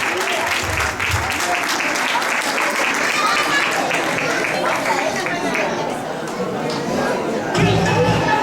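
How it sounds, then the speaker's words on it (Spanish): An audience applauds female performers from the Dominican Republic at an intercultural festival event. The clapping is loud and sustained throughout, with crowd chatter mixed in. "Fuerte aplauso para ellas"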